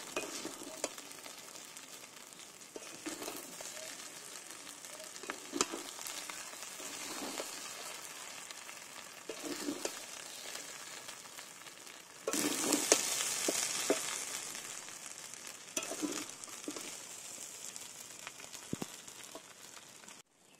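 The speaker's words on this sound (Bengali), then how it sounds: "ঘি, আমরা এবার তলায় থেকে খুব ভালো করে একটু নেড়ে নেবো।" Bengali fish-head muri ghonto being stirred from the bottom of the pan in ghee with a little sugar, soft sizzling broken by repeated scraping strokes, louder near the end, with no talking.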